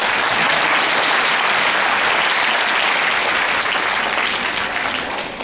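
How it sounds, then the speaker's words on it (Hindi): A large audience applauds at an awards talk, a dense, loud, sustained wash of clapping that fades slightly at the end. "थोड़ी जी तालियां लगा दें।"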